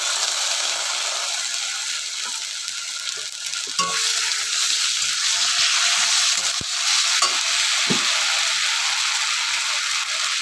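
Onion, garlic and ginger paste fries in a pan: a continuous close sizzle with scattered clicks and scrapes of stirring, and no talking.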